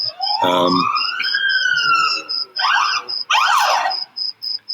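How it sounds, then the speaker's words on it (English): An ambulance siren wails loudly close by, its rising and falling tones sweeping past with a sharp chirping yelp near the end, steady and dominant over faint background noise. "That was an ambulance, actually."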